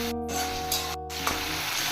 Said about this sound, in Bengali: চিংড়ি মাছ ভালো করে ভেজে নিয়েছি।